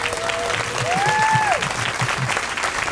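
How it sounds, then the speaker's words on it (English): Audience applause and cheering at a veterans memorial dedication in Edina, steady clapping throughout with a whistle-like tone rising briefly over the crowd noise. "They gave me a nice cheer."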